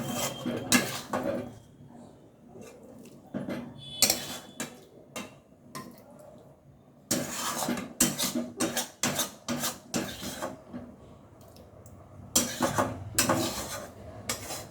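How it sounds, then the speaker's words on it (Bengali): Scraping and clanking of a spoon against a pan while stirring goat meat curry, in quick irregular bursts, close by, with quieter gaps between strokes. "এবারে ভালোভাবে আমি কষিয়ে নেব।"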